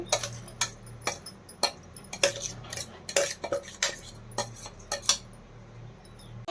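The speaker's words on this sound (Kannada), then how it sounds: "ಈಗ ನಾನು ಒಂದು ಬಾಣಲಿಗೆ ಎಲ್ಲನೂ ಹಾಕ್ಕೊಳ್ತಾ ಇದ್ದೀನಿ" Mango, chilli, salt, turmeric and coconut tipped into a frying pan, with repeated close metallic clinks and scrapes of a utensil against the pan in an irregular rhythm over a low steady hum.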